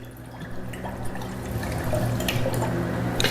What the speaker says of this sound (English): now we got 10 ounces of the agave simple syrup.